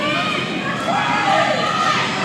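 Packed crowd at a fight night in the Nerang PCYC, a dense roar of cheering and shouting voices filling the hall, loud and continuous.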